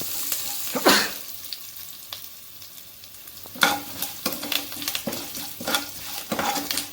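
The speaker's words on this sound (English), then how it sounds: "Now I'll add the chopped curry leaves. Saute it for another minute." Green chilies and chopped curry leaves sautéing in a pan for a homemade rava idli mix, a low sizzle broken by bursts of stirring scrapes and spatula knocks against the pan.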